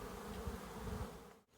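Bees buzzing in a dense, steady drone that fills the air up close, with no voices, dropping away briefly near the end.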